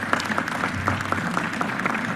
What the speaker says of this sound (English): Let us give that a round of applause.